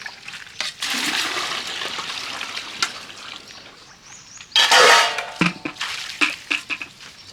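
Water runs and splashes while large pots and dishes are washed in a village home, with bursts of gushing water, drips and metallic clinks of vessels, close by and without talk.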